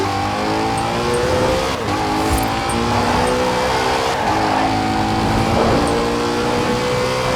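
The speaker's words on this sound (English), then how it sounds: "Koenigsegg Agera." A Koenigsegg Agera supercar in the Forza Horizon 4 racing game accelerates hard, its engine note climbing through steady harmonic sweeps and gear changes, loud and continuous with a brief tire squeal.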